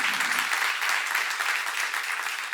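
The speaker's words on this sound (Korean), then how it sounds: "박수 하세요" A church congregation applauds during a sermon seminar, a brief, even wash of clapping heard on its own.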